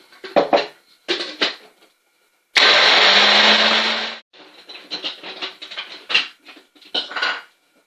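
Blender whirring for about two seconds while making homemade mayonnaise, a loud, steady motor roar that starts abruptly and stops, framed by clattering of dishes and kitchen handling before and after.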